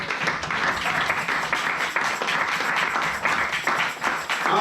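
A church congregation at a French-language service breaks into sustained, dense applause, many hands clapping together in a full, continuous roar that lasts the whole stretch with no talk over it.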